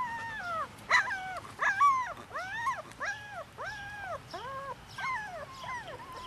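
Two-week-old Wirehaired Pointing Griffon puppies whimper and squeal in a close series of high, wavering cries, one after another with short gaps.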